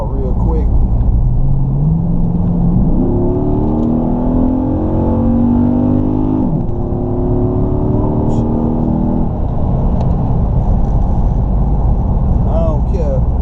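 A 2012 Dodge Challenger SRT8 with an 8-speed automatic accelerates hard in track mode, its loud engine note climbing through rising gear pulls with brief dips at each shift, heard from inside the car.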